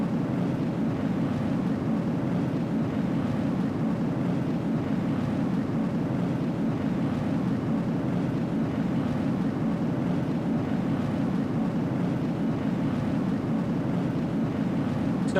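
A rocket engine in a spaceflight building game roars with a steady, dense, unbroken rumble, loud and unchanging from start to finish with no voices on top.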